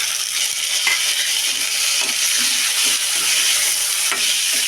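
Pirandai, adamant creeper, sautéing in a pan for thuvaiyal, giving a steady close sizzle and hiss with faint intermittent stirring clicks throughout, no voices.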